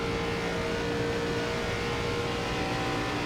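An ARCA stock car in the iRacing sim accelerates at full throttle out of a corner at Pocono. The engine holds a loud, steady, rising drone throughout, with no voice.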